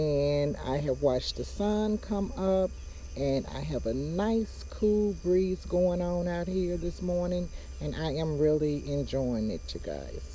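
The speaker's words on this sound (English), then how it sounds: "maybe a few crickets are doing their little thing right now" Crickets chirp steadily and faintly in a backyard on a cool morning, a thin continuous trill under a person talking close up.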